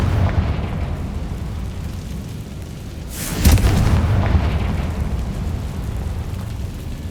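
A Confringo spell explodes in Hogwarts Legacy, a single deep booming burst rising out of a dense rumbling game soundscape and fading back into the steady background roar.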